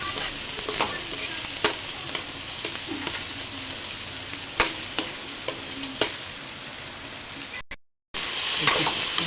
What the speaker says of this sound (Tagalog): Unahin ko pong igisa ang pangkay para po lumambot po siya.